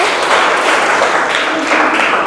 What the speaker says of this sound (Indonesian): Tepuk tangan untuk kelompok biru.